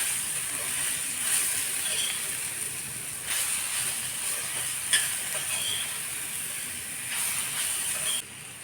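Grated raw mango frying in a pan over low heat for a mango chutney, a soft steady hiss with intermittent stirring scrapes, fairly quiet and without speech.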